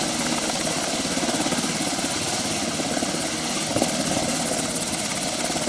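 A military helicopter hovers during a special forces fast roping exercise, its rotor and engine a steady, loud, unbroken roar with no speech.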